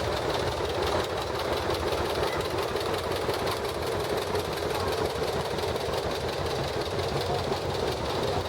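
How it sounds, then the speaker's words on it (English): A John Deere 520 tractor drives in a parade, its engine chugging in a steady, knocking rhythm that stays continuous and prominent throughout. "Here comes Taylor Sunderledge on his John Deere 520, the little brother to the 720 that you saw come through earlier"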